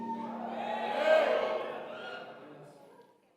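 A church congregation shouts together at a preacher's prompt, the crowd's cry swelling to a loud peak in the first half before tapering off into quiet.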